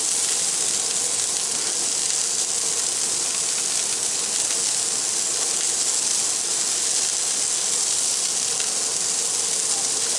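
Jalapeno and onion smash burgers browning on a Blackstone griddle, a loud, unbroken hiss of frying that holds steady from start to finish.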